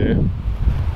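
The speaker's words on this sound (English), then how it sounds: "Like I said, it's very windy today." Strong wind buffets the microphone on a blustery day by a switchgrass field, a loud low rumbling roar that fills the whole moment.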